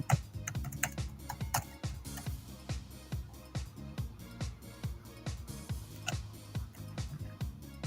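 Computer keyboard typing, close and crisp, with rapid irregular key clicks in bursts and brief pauses throughout, fairly quiet with no talking.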